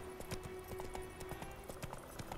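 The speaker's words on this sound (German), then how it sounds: "dann reiten wir mal zurück zur Garnison" Horse hooves clip-clopping at a steady riding rhythm in The Witcher 3 on Xbox One, a horse heading back toward a garrison, with repeated moderately close hoof strikes over a soft game ambience.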